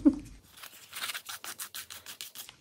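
Grainy gesso mixed with sand is spread with close, rhythmic scraping strokes, a gritty rasp repeating roughly every fifth of a second with no talk over it.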